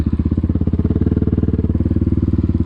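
A motorcycle engine runs close and loud, a fast, even train of thumping exhaust pulses holding steady throughout with no voices.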